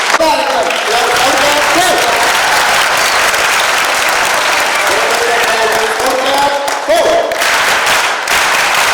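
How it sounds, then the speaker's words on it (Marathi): Loud, sustained audience applause at a school annual prize distribution ceremony at Godavari Secondary School in Shingave, Niphad, dense clapping that rolls on evenly with brief swells, close and continuous. "या सगळ्यांसाठी एकदा जोरदार टाळ्या वाजल्या पाहिजे."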